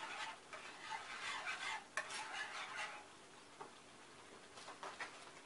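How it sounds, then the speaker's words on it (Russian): Spices are stirred into a cauliflower cheese sauce in a pan, giving soft, close scraping and stirring sounds over a faint sizzle, with a couple of light utensil clicks and no talking. "И опять перемешиваем."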